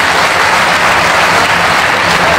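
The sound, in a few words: audience applauding in honour of poet Yogendra Sharma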